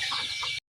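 Chickens cluck on a rural farm in Laos, with a couple of close, short clucking calls, a brief cutout, then another cluck starting.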